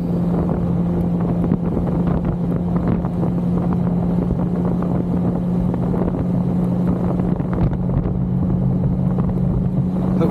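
Strong wind roars and buffets the microphone while riding a Yamaha XMAX 300 scooter along a road, a loud, steady rush with the low engine drone underneath and no talking.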